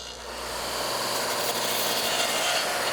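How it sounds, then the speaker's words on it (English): A radial arm saw cutting dadoes in wood: a steady, loud whining roar of the blade that swells after the start and holds through the cut, with no voices. "I was good to go to finish these dado cuts"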